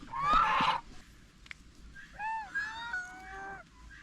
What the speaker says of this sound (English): Look at these geese.